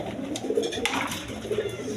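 A pair of Rajgolla pigeons coo in low, rolling murmurs, moderately close, with some background rustle.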